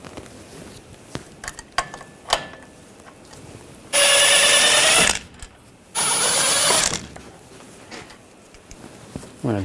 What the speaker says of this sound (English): We're going to take these two bolts out, use an 18mm socket.